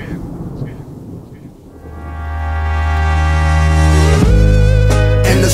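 A thunderstorm sound effect in a hip-hop track builds as a low rumble under the music and then swells into a loud, sustained roar.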